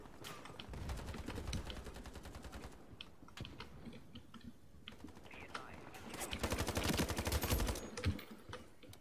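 Rapid bursts of automatic gunfire in the Ironsight shooter game, quiet and crackling, with a heavier stretch of sustained firing near the end while a voice talks over parts of it.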